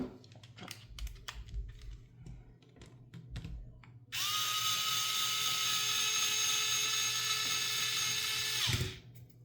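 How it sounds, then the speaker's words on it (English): Electric driver running bolts into an RC truck: some light handling clicks first, then a sustained high-pitched motor whine that runs steadily for several seconds before cutting off. "I'm going to switch over to my electric driver."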